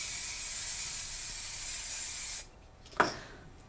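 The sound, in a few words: frosting spray sprayed onto window glass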